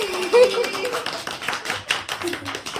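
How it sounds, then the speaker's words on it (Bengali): A small group of people clapping at an anniversary cake cutting, a brief close burst of applause mixed with cheerful chatter and voices. "হাততালি দাও সবাই"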